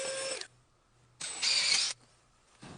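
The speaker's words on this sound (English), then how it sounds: "We got a paintbrush, and we're drilling a hole in it." A power drill bores a hole through a paintbrush in two bursts, the first brief and the second longer and louder, with quiet gaps between and another start at the end.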